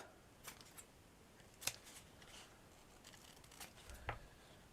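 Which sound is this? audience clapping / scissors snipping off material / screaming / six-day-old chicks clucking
scissors snipping off material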